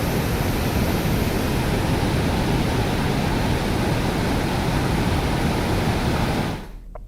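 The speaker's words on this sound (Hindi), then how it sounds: "तेज बारिश हो रही है, मूसलाधार बारिश से नदी नाले तो उफान पर हैं ही" Heavy torrential monsoon rain in Gujarat with floodwater, a loud, dense, unbroken roar of rushing water and downpour that cuts off abruptly near the end.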